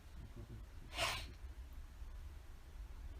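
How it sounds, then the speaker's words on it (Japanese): A single sharp sneeze from a woman, a quick bright burst rising out of quiet room noise with soft breathing before and after, close to the microphone. "くしゃみ出た。"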